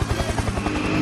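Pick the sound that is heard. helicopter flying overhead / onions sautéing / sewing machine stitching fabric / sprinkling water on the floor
helicopter flying overhead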